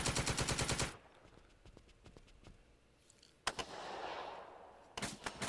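Rapid automatic gunfire from a World War II combat game set on Omaha Beach: a loud burst opens, then scattered single shots, a sharp crack followed by a rushing sustained roar, and another loud burst at the end.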